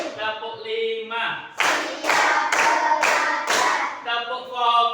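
A group claps in a steady rhythm of sharp, bright bursts, alternating with voices chanting in between.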